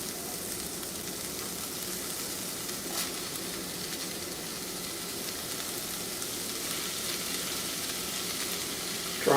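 Onion, celery and garlic sizzle steadily in a hot pan for corned beef hash, a dense continuous frying hiss from close by with a small clatter right at the end and no talk.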